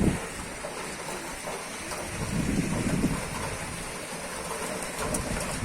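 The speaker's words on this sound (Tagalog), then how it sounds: "ang lakas na ng ulan" Heavy rain with strong wind roars steadily and densely nearby, a constant wash with gusty swells throughout and no speech.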